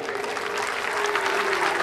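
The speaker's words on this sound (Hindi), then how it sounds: "मैं चाहूँगा हमारे भोला जी के लिए जरा ज़ोरदार ताली बजाएं" A crowd claps loudly and continuously at a Bhagwati jagran devotional night in Basant Vihar, Delhi. The applause is a dense, even roar over a steady sustained tone, and it builds slightly toward the end.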